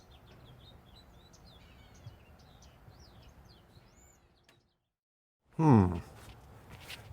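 Small birds chirp and tweet in a backyard, a scattered series of short calls in the distance over faint ambient noise, followed by a silence and then a brief loud rustle near the microphone.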